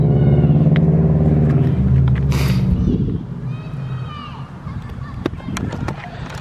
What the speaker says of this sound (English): Traffic here already.